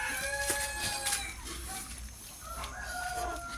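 Several chickens on a farm after a typhoon crow and cluck over a steady outdoor background, with overlapping crows close by and longer calls trailing off near the end.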